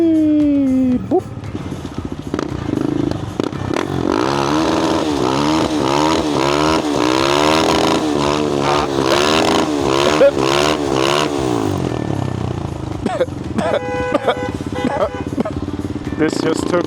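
A new Suzuki GSX-8R motorcycle ridden hard: the engine revs up and down repeatedly in rising and falling sweeps, loud and close with wind rush, climbing through gears and then easing off near the end.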